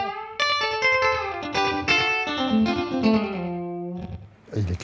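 An electric guitar run through a Universal Audio delay pedal plays a busy melodic line, the sustained notes trailing into echoing repeats, loud and upfront with no talking.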